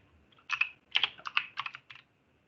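Keystrokes on a computer keyboard while doing a coding exercise: several quick bursts of close, crisp clicks separated by short pauses, with no talking.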